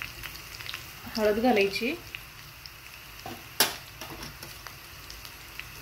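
Curry leaves, chili, garlic and cumin frying in hot oil with a steady sizzle, stirred with a few scraping clinks and one sharp knock of the spoon, while a voice speaks briefly over the cooking.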